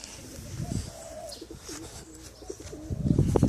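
Racing pigeons coo in low, throaty, wavering calls, several overlapping nearby, with some rustling and faint background noise.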